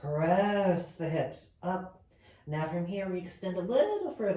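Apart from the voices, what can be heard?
No everyday noises stand out.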